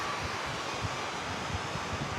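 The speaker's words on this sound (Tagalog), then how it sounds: "Ang lakas ng hangin." Strong wind gusts buffet the microphone outdoors during a DJI Neo 2 drone flight, producing a continuous broadband roar with low thumps and a faint whir underneath.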